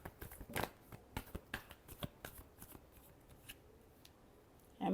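Tarot cards are shuffled by hand in rapid riffling bursts, a fast irregular flutter of crisp slaps close up that thins out toward the end, in a quiet room.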